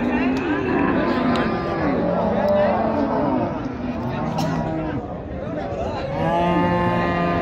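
Friesian dairy cows at Raniganj cattle market moo repeatedly, several drawn-out calls overlapping near and farther off, over a background of crowd chatter.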